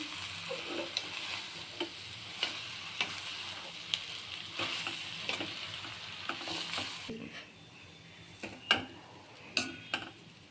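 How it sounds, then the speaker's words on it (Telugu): Chapati paneer noodles being stirred in a frying pan, with an irregular series of close spatula scrapes and clicks over a faint sizzle, quieter toward the end, with no speech. "ఇవన్నీ బాగా కలుపుకోవాలి."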